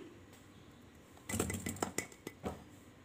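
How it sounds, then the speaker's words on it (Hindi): Sugar is mixed into cake batter in a bowl for cup-measured cupcakes, heard as quiet near-silence followed by a burst of close scraping and clinking of a utensil against the bowl, several distinct knocks toward the end. "चीनी को हमने अच्छे से मिलाना है 3-4 मिनट के लिए।"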